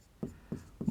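Three short scratchy strokes of writing on a board during a Class 10 maths statistics lesson, quiet and close, evenly spaced with no talk.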